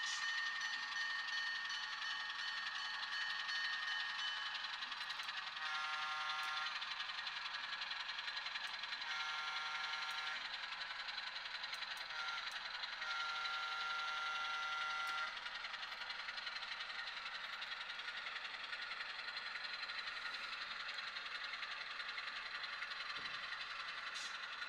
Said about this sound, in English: You've got a couple of locomotive engines sitting out there.